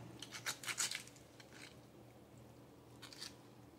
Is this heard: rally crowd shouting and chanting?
no